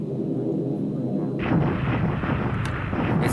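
Airfield bombardment in the War in the Pacific strategy game: a low rumble turns into a dense burst of booming artillery-like blasts that carries on for a couple of seconds.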